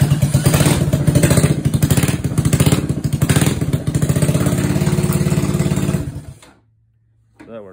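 A Honda Aero 125 motorcycle with no exhaust fitted starts and runs for about six seconds: a loud, raw, rapid mechanical clatter close by, then it cuts off into near silence before a brief faint noise at the end.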